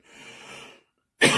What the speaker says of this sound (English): Quite the cough I got going here.